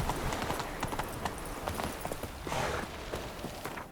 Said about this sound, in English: It's literally slower to use the horse in this game than to run.